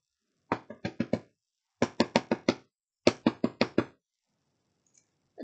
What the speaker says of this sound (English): where Harry raised his fist and knocked 3 times.